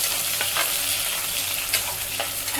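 Chopped onions for veg pulao sizzle loudly in hot oil, a dense continuous crackle close by, with a few sharp stirring scrapes on top; no talking.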